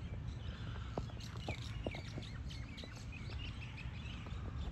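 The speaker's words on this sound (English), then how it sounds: "zebra doves, chickens. That's aloha." Myna birds and zebra doves call and chirp across a quiet outdoor morning in Kihei, Maui, several birds at moderate distance, overlapping sharp notes and soft coos, no voices.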